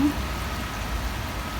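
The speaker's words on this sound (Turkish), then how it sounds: "Yalnız bu ne yağmurdur böyle?" Steady rain falling outdoors, a continuous soft wash of noise at moderate volume with no voices.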